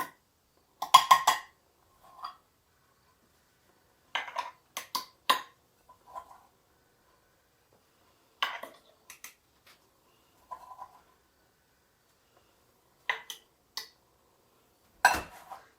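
Chopped onions spooned into glass canning jars for beef stew, heard as scattered sharp clinks and clicks of a spoon against glass, grouped in short bursts with quiet gaps, close and fairly soft.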